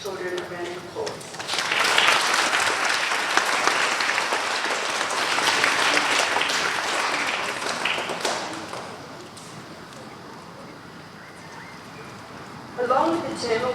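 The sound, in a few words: audience applause at school award assembly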